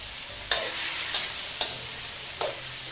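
Squid sautéed in a pan for adobong pusit, a constant close sizzle broken by four sharp scrapes of a utensil stirring against the pan, no talking.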